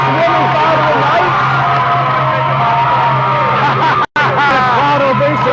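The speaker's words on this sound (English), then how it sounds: "Crowd ovation here for Jennifer Paez" A packed crowd at a regional Muay Thai fight event roars and cheers in a dense, loud wave of yells and whoops as a female fighter is introduced, with a broadcast voice talking over the noise.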